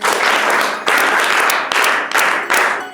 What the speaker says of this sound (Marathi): त्यासाठी त्याचं कौतुक करायला आपण सगळेजण टाळ्या वाजवूया.